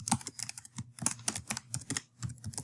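Rapid keystrokes on a computer keyboard as an email address is entered, a close, irregular run of crisp clicks with brief pauses between bursts.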